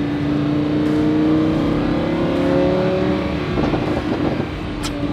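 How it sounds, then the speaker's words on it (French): A Lamborghini Huracan LP610 with its V10 engine revs hard, a loud, close, crisp howl whose pitch climbs and then drops back before rising again, running unbroken for the whole stretch. "moteur produit un son cristallin, on n'en entendra plus jamais des comme ça"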